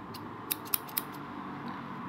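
Scissors snip open a trading card pack with a few quick, sharp cuts in close succession, then a quiet pause with one faint softer snip.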